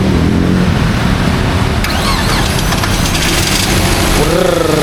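Engine noise from a 2005 Ford Escape under repair in a workshop runs loud and steady throughout, with faint overlapping chatter and a brief rising whine near the end.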